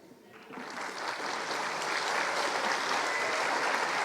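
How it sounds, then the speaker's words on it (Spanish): Audience applause at a university seminar swells from a quiet start into a steady, dense ovation of many hands that holds loudly to the end. "Fuerte los aplausos"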